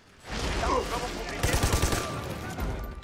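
Gunfire in the video game Army of Two: The Devil's Cartel, a dense burst of rapid shots and explosions running for a few seconds, loud and close, with a voice talking over it.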